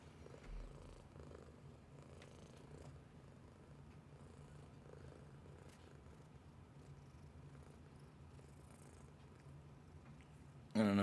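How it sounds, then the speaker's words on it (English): A pet cat perched on a person's shoulder purrs in a close, steady, continuous rumble throughout, ending with a sudden louder rustle. "I don't know if y'all can hear my cat just hanging out of my shoulder right now, purring away."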